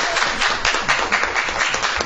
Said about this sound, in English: Rarely do we get applause